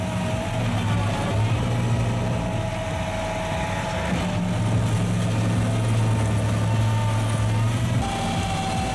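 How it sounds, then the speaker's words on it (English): A 25 HP tree stump grinder runs steadily, its engine holding a loud, continuous low rumble with a faint higher drone on top, close by and with no talk over it. "A 25 HP tree stump grinder Loxam can handle tree stumps up to 63 centimeters high and dig up to 33 centimeters below ground."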